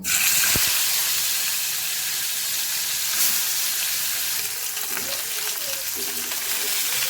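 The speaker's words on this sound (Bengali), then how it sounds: "তেল গরম হয়ে গেলে গ্যাসের ফ্লেমটা আস্তে করে দিয়ে এবার আমি এক এক করে মাছগুলো ছেড়ে দেব" Bhola fish slid one by one into hot oil in a wok over a low gas flame, giving a steady hissing sizzle with a light clatter near the start and faint clinks later.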